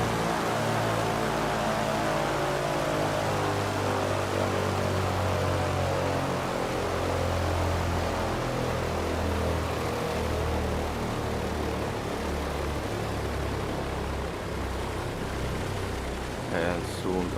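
Douglas DC-3 twin propeller engines in Microsoft Flight Simulator 2020 throttled back toward a 700 RPM idle, a loud steady rumbling drone whose pitch slowly falls, with a faint voice under it.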